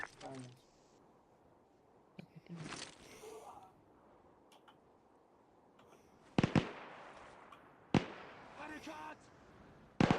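Gunfire in the Arma 3 war game, scattered sharp bursts and single cracks separated by quiet stretches, some loud and close, others fainter.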